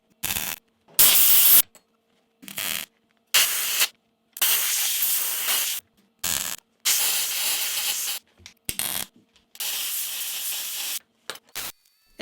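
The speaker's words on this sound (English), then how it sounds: "One tack at a time, followed by compressed air to cool everything down." Compressed air blows in short, loud hissing bursts to cool freshly tack-welded steel during a Land Rover chassis repair, with about a dozen blasts of uneven length separated by brief silences.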